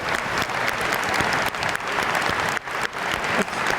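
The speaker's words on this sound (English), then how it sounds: "Don't you think you should applaud them?" A live audience at a Million Dollar Round Table session applauds colleagues, loud, dense clapping sustained across the whole stretch with small dips in intensity.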